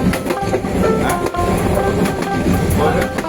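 A large Bijoy Express passenger train running on the Chattogram to Jamalpur route, a loud continuous rumble with rhythmic clatter of wheels on rails throughout, heard close from on board.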